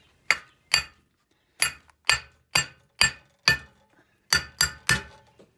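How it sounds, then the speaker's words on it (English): Small sledgehammer striking a wheel stud on a 2002 Hyundai Santa Fe, ten sharp metallic clanks in an uneven rhythm, loud and close with short ringing decays and silence between blows. "get your little sledgehammer and then whack it"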